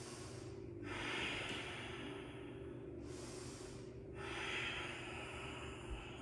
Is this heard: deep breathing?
yes